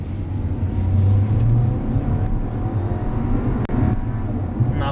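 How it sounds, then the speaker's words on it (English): A 2019 Audi A4 Quattro pulls hard onto a merge, its engine and road noise heard from inside the cabin as a steady, loud drone with no talk over it. "Let's give it some gas."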